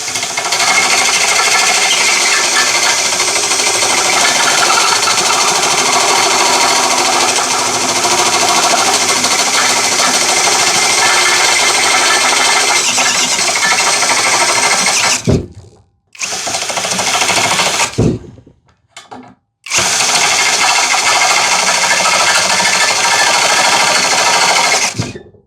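Hanabi impact drill drilling, a loud continuous buzzing rattle near the mic that runs steadily, then cuts out in short stops and restarts before running again.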